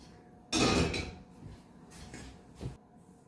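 A spoon stirs orange cake batter into flour in a mixing bowl for a moist 1940s-style orange cake. It opens with a loud, close clattering scrape, then softer intermittent scraping strokes follow.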